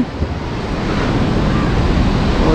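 Sea waves roll onto the rocky shore at Azhimala on the Thiruvananthapuram coast, a loud continuous surf roar mixed with heavy wind buffeting close to the microphone.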